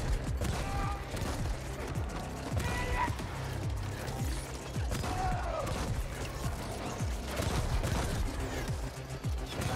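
Riot shotgun gunfire in the sci-fi video game The Ascent, with repeated blasts and mechanical clatter layered over dense, busy game action throughout.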